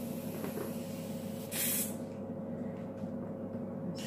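A paint spray gun sprays out blue paint in one short, sharp hiss burst lasting about half a second, over a steady background hum of a compressor.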